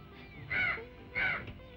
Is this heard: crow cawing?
yes